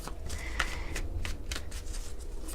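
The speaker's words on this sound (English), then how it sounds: "while I'm shuffling" Tarot cards are shuffled by hand in a series of quick, close riffles and snaps, evenly spaced over a soft background hum.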